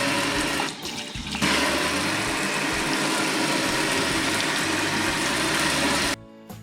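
Continuous rushing water spray from a kitchen faucet runs loudly for several seconds, briefly dipping near the start, then cuts off abruptly at the end.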